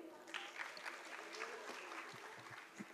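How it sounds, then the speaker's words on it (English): Audience clapping at a school annual showcase, scattered and fairly faint, with individual claps audible over a soft murmur and some voices in the background. "So everybody please clap for him."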